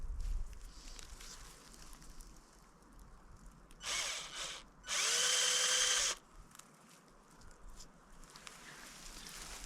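A power drill bores a hole into a birch tree trunk to tap sap outdoors, two short whining bursts, the second longer and louder, over quiet outdoor background.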